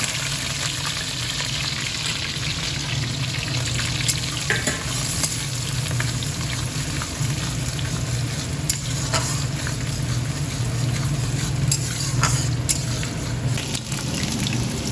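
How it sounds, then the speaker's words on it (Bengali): Garlic and onion are added to hot oil with a bay leaf, sizzling and crackling loudly and steadily in the pan, with occasional stirring scrapes and pops. "এবার দেখো তেজপাতা দিয়ে দিয়েছি, তেলে দিয়েছি। এবার রসুন আর পেঁয়াজটা দিয়ে যাবো।"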